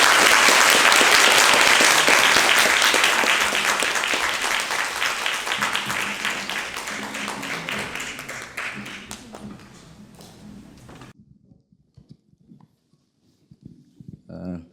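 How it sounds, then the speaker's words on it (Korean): An audience gives a warm round of applause to welcome interpreters at a lecture event, loud at first, then thinning into scattered claps and fading out by about ten seconds, followed by near silence with faint movement noises. "큰 박수로 환영해 주시면 감사하겠습니다."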